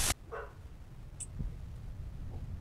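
A dog barks once early on, a short sharp yelp in the horror game Something in the Well, followed by a low rumbling ambience with faint scattered clicks.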